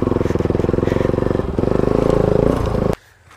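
A motorcycle rides along a rough road in Nuwakot, Nepal, its engine pulsing in a fast steady throb with rattles and a brief dip, then cutting off abruptly near the end.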